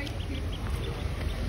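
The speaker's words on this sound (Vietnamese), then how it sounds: "Mua trứng vịt lộn ăn là bây giờ thành được mấy con vịt." Several ducklings hatched at home from incubated duck eggs, out in a yard, quack in soft scattered peeps over a steady outdoor background hum.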